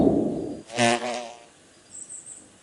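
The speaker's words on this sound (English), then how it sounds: "A wasp." A wasp in the video game Divine Divinity buzzes briefly, a harmonic droning hum rising over background game ambience, fairly close and loud before fading into a quieter bed with faint high chirps.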